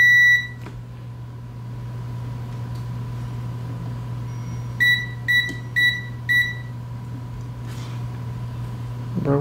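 An electronic device beeps while a Game Boy Pocket with no power has its voltage traced: one short beep, then a run of four evenly spaced beeps, over a steady low electrical hum.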